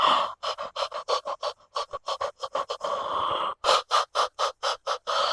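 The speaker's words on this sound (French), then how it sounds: "On se laisse respirer, peut-être même respiration haletante dans ce mouvement" Rapid rhythmic panting breaths during a yoga movement come as about two dozen short, sharp exhales in quick succession, close and loud, with one longer sustained breath in the middle.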